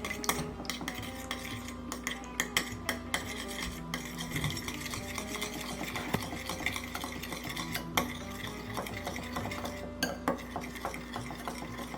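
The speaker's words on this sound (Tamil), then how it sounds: "முட்டையை ஒரு பவுலில் உடச்சி எடுத்துக்கிட்டு அதை நல்லா மிக்ஸ் பண்ணிக்கிடணும்." Eggs whisked in a bowl for protein-rich muffin batter, a steady run of fast metallic scraping and clinking strokes against the bowl, close and continuous with no talking.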